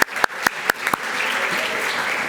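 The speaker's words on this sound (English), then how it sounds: "Give him a big round of applause." A few sharp, separate claps ring out, then swell into broader applause from an audience at an award ceremony, the crowd noise settling into a steady, moderately loud wash.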